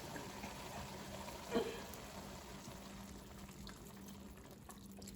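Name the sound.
liquid poured into a pot for French onion soup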